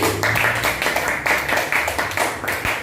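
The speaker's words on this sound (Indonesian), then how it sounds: "Aplaus untuk kita sekali lagi." Rhythmic group clapping from an audience at a gathering, steady and fairly close, with claps landing in a repeated pattern for a few seconds.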